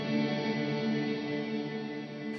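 A Strymon Cloudburst reverb pedal lets a clear, shimmering chord tail ring out and slowly fade over a couple of seconds, ending in an abrupt cutoff.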